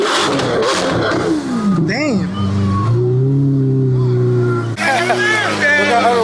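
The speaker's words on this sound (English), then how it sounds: "I heard a V12 car around" A Lamborghini Aventador SV's V12 engine roars loudly at close range, revving and sweeping in pitch as it passes through a supercar gathering, with a brief spoken exclamation over it.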